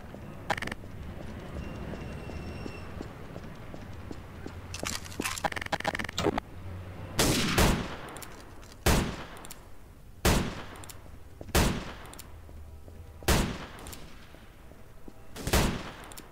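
Repeated gunfire in a Garry's Mod WWII roleplay game: a burst of scattered shots gives way to loud, sharp single reports spaced a second or two apart, close and alone with no talk.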